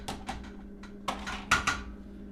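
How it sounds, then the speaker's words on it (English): A spoon scraping and clinking against a pot while malt is stirred for home-brewed light beer, a series of irregular close metallic knocks, with a steady low hum underneath and no talk. "Give this a good stir."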